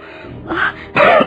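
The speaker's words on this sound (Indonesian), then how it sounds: "Batuk-batuk ayah mengeluarkan darah." In an Indonesian period drama, a man coughs twice, a short rough burst followed by a louder, harsher one, close and clear.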